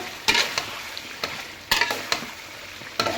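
Chicken coated in red chilli powder is stirred in a hot pan, with a spoon scraping and clacking in short repeated strokes over a light sizzle.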